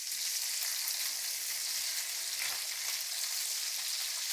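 Meat frying in a pan for rigatoni carbonara, its fat rendering out in a steady, soft, continuous sizzle with no talk over it.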